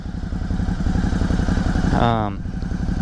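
A 2020 Ducati Hypermotard 950 SP motorcycle engine runs with a steady, close throb, then revs quickly up and down once as it shifts into first gear, with a voice speaking over it.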